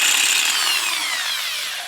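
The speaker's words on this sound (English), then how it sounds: "I don't know whether to give it a little wiggle" A Riv-Nut is worked into a tight drilled hole while fitting an e-bike battery, giving a close, bright metallic scraping and grinding that rises and falls smoothly for a couple of seconds.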